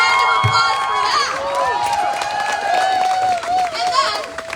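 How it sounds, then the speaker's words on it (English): An outdoor rally crowd in Decorah, Iowa cheers and claps, with high shouts and whoops rising over scattered applause and a lively mix of voices for several seconds. "Let's get a round of applause for that."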